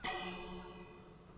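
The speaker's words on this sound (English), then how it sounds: "I would like you to ring this bell." A bell rung in Minecraft gives a single clear metallic strike with a bright ringing tone that slowly decays over about a second, faint and alone.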